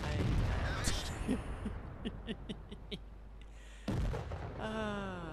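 A Hetzer tank destroyer's gun in the video game World of Tanks fires one heavy, sudden boom late on, after quieter metallic clicks and rumble, with a lingering tail and some tonal sounds afterward.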